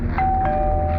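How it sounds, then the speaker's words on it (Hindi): An electronic doorbell chime sounds two quick tones over a low, steady background hum. "डोरबेल बजी"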